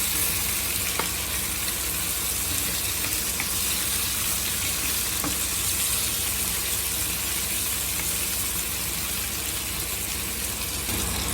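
Tomatoes tip into a pan of cooked garlic, raising a steady, dense sizzle of frying that runs loud and even for the whole stretch. A few faint clinks and stirring scrapes come through, with no talking.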